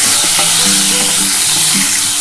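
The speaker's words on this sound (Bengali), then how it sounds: "পটলটা একটু লাল লাল করে ভাজতে হবে" Pointed gourd (potol) pieces frying in oil in a pan, giving a loud, steady, close hiss of sizzling with a faint hum underneath.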